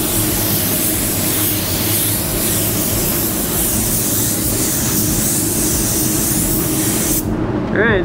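Eastwood CC500 spray gun applying paint to a new car panel, a steady loud broadband hiss running continuously for about seven seconds before cutting off abruptly.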